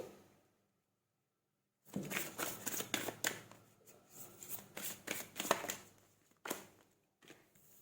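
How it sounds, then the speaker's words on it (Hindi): Tarot cards being shuffled and drawn by hand, starting after a quiet pause and running as a steady close-up riffle of soft flicking and sliding bursts, with a few separate card snaps toward the end. "चलिए गाइस आप लोग के लिए निकालती हूँ मैं कार्ड"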